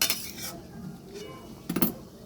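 A pot of egg chicken kosha with potatoes is covered with a lid, giving a couple of close metallic clinks and clatters, one at the start and a louder one near the end, with quiet kitchen noise between.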